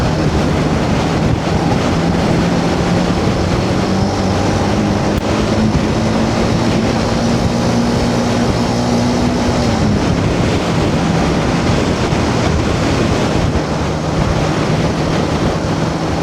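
Strong, steady wind buffeting a rider on a Benelli BN125 motorbike at Hardknott Pass, a loud continuous roar of gusting air with a low engine drone running beneath it throughout.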